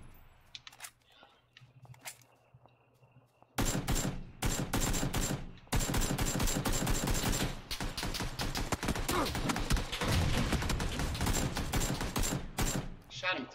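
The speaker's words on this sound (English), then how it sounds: "Shot him 3 times." Automatic gunfire in PUBG, a quiet start with a few scattered shots, then long loud bursts of rapid rattling fire filling most of the stretch, with a voice talking faintly in between.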